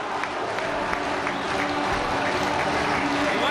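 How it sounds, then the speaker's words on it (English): Football crowd at Port Vale applauding a goal against Doncaster Rovers, a sustained patter of clapping and crowd noise with a voice talking over it. "He takes the applause of the crowd"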